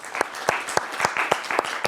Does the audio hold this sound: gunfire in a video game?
no